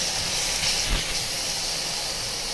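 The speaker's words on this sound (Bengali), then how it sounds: "এবার সবগুলো একসঙ্গে ভালো করে কষাবো মশলাটাকে।" Ground turmeric, cumin, coriander and chilli powder being fried together in a pan for chicken kasha, a loud continuous close hiss and sizzle with a faint scrape partway through and no talking.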